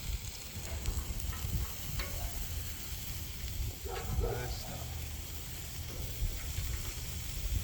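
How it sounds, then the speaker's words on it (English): Steady frying sizzle with a hissing wash on a Cuisinart 360 propane griddle, overlaid by scraping and stirring clatter, while a voice speaks briefly. "hear that sizzle?"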